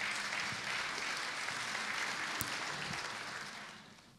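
Sustained applause from an audience welcoming performers onto the stage at a Christmas carol concert, steady and full throughout before tapering off near the end, with no voices over it.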